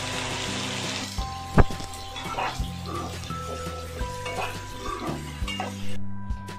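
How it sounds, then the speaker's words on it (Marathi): Sliced onions for chicken dum biryani drop into hot oil with whole spices, giving a steady sizzle broken by a sharp clank of a utensil against the pan and repeated stirring scrapes, with someone talking over the cooking. "मी इथे जे मोठे उभे कांदे कापून घेतले होते तेही मी फोडणीला टाकते"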